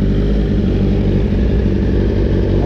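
Engine of a Honda BR-V car warming up, a steady close idle with low rumbling and faint mechanical clatter, even and continuous throughout.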